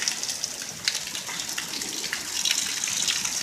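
Heavy rain falls during a hail storm, a dense steady hiss with scattered sharper ticks of impacts, moderately loud and continuous without talking.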